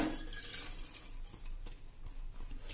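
Water pours steadily into a pressure cooker holding soaked toor dal, splashing and trickling close by at a low level, with a few small clinks near the end.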